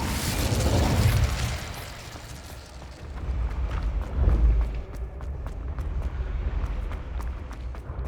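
An Incendio fire spell in the Hogwarts Legacy video game erupts in booming bursts, a loud whoosh early and another heavy burst midway, followed by crackling, fading debris.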